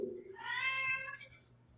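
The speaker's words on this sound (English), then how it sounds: "A cat's upset." A cat meows in an upset, drawn-out cry, with one strained, wavering call of moderate loudness heard alone against a quiet background.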